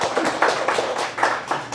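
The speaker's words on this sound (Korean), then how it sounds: "우리 하나님께 영광의 박수 올려드립시다" A church congregation claps together at a baptism service, producing loud, close, rhythmic bursts of applause at an even beat.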